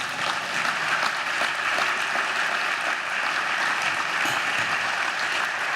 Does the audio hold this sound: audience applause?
yes